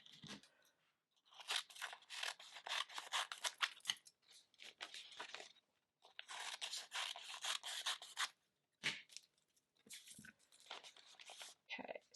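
Scissors trim excess infusible ink sheet for a sublimation mug design, giving repeated close crisp snipping and crunching cuts in bursts with short pauses between them.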